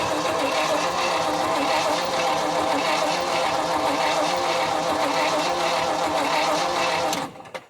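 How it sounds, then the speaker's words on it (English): An abandoned 1975 Ford F500 rollback truck, left sitting in a field for 17 years, cranks over on a jump pack. A loud, steady whirring drone runs for about seven seconds, then cuts off abruptly. "we're going to see if we can get it to at least crank over a little bit"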